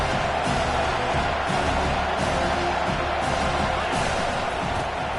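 Loud, steady crowd roar fills a college football stadium on second down, a dense wall of noise that never lets up, with faint cheering swells over it.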